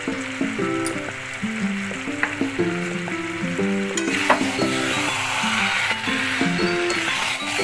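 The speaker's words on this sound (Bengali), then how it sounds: "মাংসটা ঠিকঠাক করে কষানো হয়ে গেছে।" Mutton being sautéed dry (kosha) in a wok for a dhaba-style curry: a loud, continuous oily sizzle with intermittent scraping stir strokes and clinks, over a steady tonal background.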